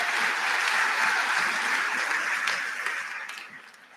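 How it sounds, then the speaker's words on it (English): An audience at a high school graduation ceremony for the class of 2021 gives the graduates a round of applause. The dense clapping holds steady, then tapers off over the last second or so. "Can I get another round of applause for my fellow SUMA graduates?"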